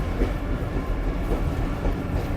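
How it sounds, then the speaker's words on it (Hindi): Train rolling right through the middle of the Kuchlak bazaar in Balochistan, near the Afghan border, a steady close rumble of wheels and carriages that carries on without a break and with no talk. "ये ट्रेन देखें बिल्कुल बीच में से गुजर रही है बाजार के"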